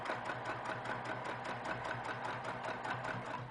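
A sewing machine stitches a quilt block with a fast, steady mechanical whir and rapid needle chatter, running continuously up close without pause.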